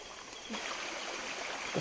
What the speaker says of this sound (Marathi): तर पाणी ना गाळून टाकूया त्याच्यातलं